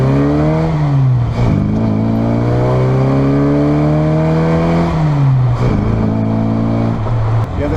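A 1987 Mini Cooper pulls away from a green light, its engine revving hard from inside the cabin, rising through the gears with pitch climbing, dropping at each shift, then climbing again, loud and close.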